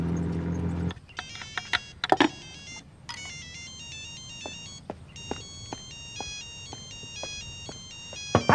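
A phone rings in a Vietnamese TV drama scene, repeating a bright electronic ringtone melody in steady bursts for several seconds, with a few sharp clicks and knocks mixed in and no talk over it.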